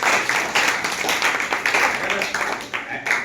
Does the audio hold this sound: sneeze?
no